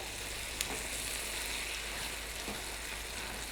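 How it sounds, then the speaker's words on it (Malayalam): Onions sautéing in a pan for onion pickle, a soft, continuous sizzle and crackle of frying, steady and fairly faint, heard alone without talking. "സവോളയൊക്കെ വഴന്ന് നല്ല സോഫ്റ്റായിട്ട് വന്നിട്ടുണ്ട്"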